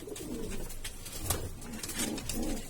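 Kasni pigeons coo in low, soft, repeated murmurs, with occasional brief higher chirps over a steady background.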